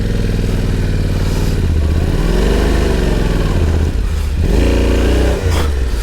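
Motorcycle stuck in mud on a rough Georgian track, engine revving repeatedly with rising and falling pitch, loud and close, with clattering as the rider struggles.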